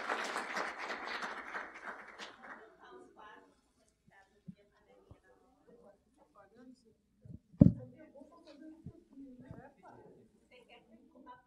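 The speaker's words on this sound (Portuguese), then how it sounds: "A salva de palmas a todos." An audience at a regulatory round-table meeting applauds briefly and loudly. The clapping fades within a few seconds into quiet talk and occasional soft knocks.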